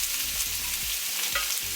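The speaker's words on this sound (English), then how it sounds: "You're gonna add cooking oil again and add in your garlic and onions." Garlic and onions fry in hot oil in a wok with a steady, close sizzle, broken by several stirring scrapes and tosses at irregular intervals, with no talk.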